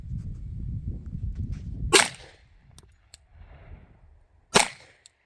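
Two sharp, loud shots from a Glock 20 10mm pistol fired at small targets, a few seconds apart, each a crisp crack with brief echo, with faint low rumble before the first.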